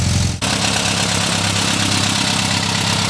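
Rebuilt engine of a 1961 Volkswagen Beetle ragtop running steadily at a fast idle around 1200 to 1400 rpm during cam break-in, a loud, close, even air-cooled chug that continues without a break after a brief change at the start.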